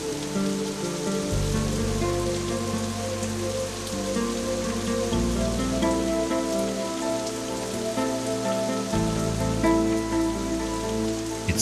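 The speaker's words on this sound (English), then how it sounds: "The rain is heavier now." Steady heavy rain pours down onto red earth in an oasis in Australia's Red Centre, a dense continuous hiss with pattering drops throughout, no voices.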